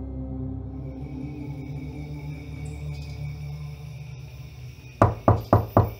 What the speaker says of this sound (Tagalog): marinig naming may kumakatok sa pinto